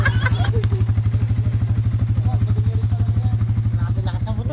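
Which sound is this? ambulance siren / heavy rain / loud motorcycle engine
loud motorcycle engine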